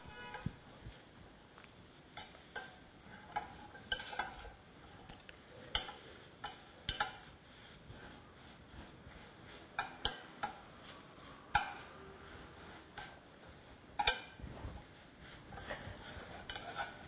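Fish cake and fried tofu stir-fried in a thin pot, giving a continuous light scraping sizzle with frequent sharp clicks and knocks of a utensil against the metal, steady and close throughout.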